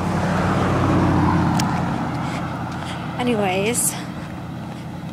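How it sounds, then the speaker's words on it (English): A loud truck rumbles past close by, its noise fading away, followed by a brief spoken word near the end. "Noisy truck."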